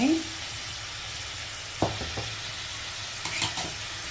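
Ginger garlic paste frying in a pan makes a soft steady sizzle, broken by a few sharp utensil clinks and stirring scrapes against the pan.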